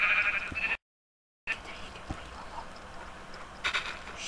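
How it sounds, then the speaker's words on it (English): Sheep in the Yogurt Island video game bleat in a couple of bright, wavering calls, one at the start and another near the end, over soft game background noise with a brief silent gap. "Whoa, that's a lot of sheep."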